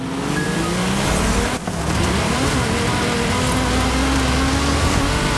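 Fast car racing in Forza Horizon 5, with a loud, steady engine roar and tire noise that holds throughout, dipping only briefly near the start before the engine drives on hard.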